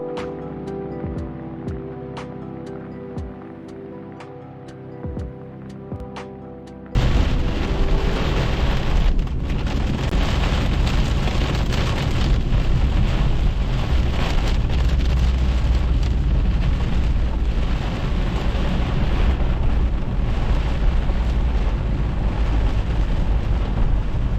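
A violent summer thunderstorm over a rocky fishing spot: faint ticking and quiet ambience, then a sudden crash into a dense, loud, continuous roar of heavy rain with rumbling thunder that lasts to the end, no voices.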